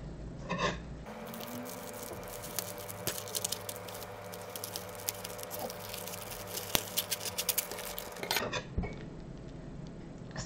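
Crinkly plastic wrapping of a frozen sausage pizza being torn and pulled open, a dense run of close rustling and crackling that lasts several seconds between quieter moments.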